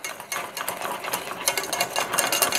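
A whisk scrapes and clicks briskly in a bowl while Worcester sauce is stirred into Welsh rarebit mixture, an irregular close rattling with no talking.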